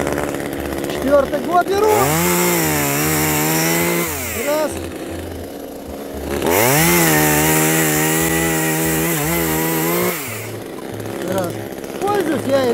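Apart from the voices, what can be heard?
Echo CS-2511TES chainsaw running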